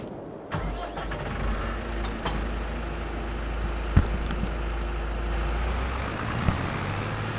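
A small milk-hauling truck at a cow farm in Farming Simulator 22 gives a steady, fairly loud low engine rumble that runs unbroken throughout, with a few faint knocks along the way.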